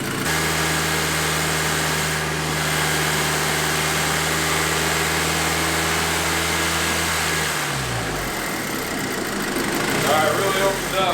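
A Volkswagen MKV GTI engine idles steadily and close by with a constant low hum, then the tone drops and shifts near the end as the revs settle, with a mechanical clatter underneath.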